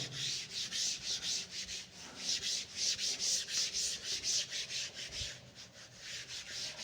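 Written maths work on paper or board is rubbed out with steady back-and-forth scrubbing strokes, a rhythmic, close, brushy rasp repeating about twice per second, with no voice.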